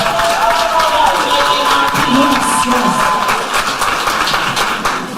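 An audience at an awards show applauds a guest steadily and loudly, with crowd noise and scattered cheers throughout.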